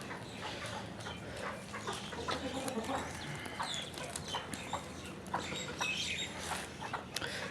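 An aseel rooster clucks repeatedly amid a busy farmyard, with other fowl calling over steady background noise.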